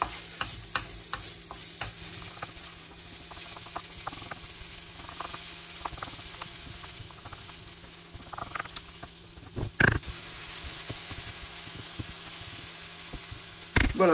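Onions frying gently in a pan until translucent while being stirred, with a soft continuous sizzle broken by scraping and tapping from the utensil, close and fairly quiet.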